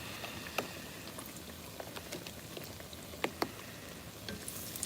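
Oreos deep frying in hot oil, a steady bubbling boil with scattered pops and crackles, close and continuous, no voices.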